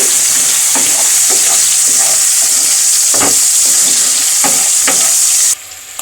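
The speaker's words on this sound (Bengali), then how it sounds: "একটুখানি নুন দিয়ে ভেজে নেবো হালকা করে পেঁয়াজ আর ক্যাপসিকামটাকে" Loud, steady sizzling of onion and capsicum frying in oil with a little salt, with scraping stirs at intervals, cutting off abruptly near the end.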